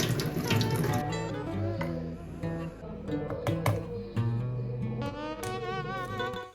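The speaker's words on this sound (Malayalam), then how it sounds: "കുടിച്ച് കഴിഞ്ഞിട്ട് ഗ്ലാസ് കഴുകി വെക്കാൻ വേണ്ടിയിട്ട് ഞാൻ അടുക്കളയിൽ വന്നപ്പോൾ" Water runs steadily from a kitchen tap while a drinking glass is rinsed under it, close and continuous for several seconds, with tonal background sound layered over the flow.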